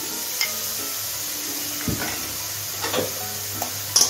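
Poppy seed and green chili paste is stirred into lau saag frying over a medium gas flame. A steady sizzle runs throughout, broken by a few sharp scrapes and clinks of a spoon against the pan.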